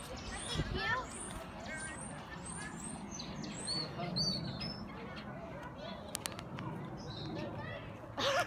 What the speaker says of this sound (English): I don't really know what that kind of bird is